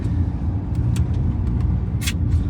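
An Audi A5 Sportback 2.0 TDI with an S-tronic gearbox drives along a road, a steady close rumble of engine and tyre noise with a few faint clicks and one brief hiss.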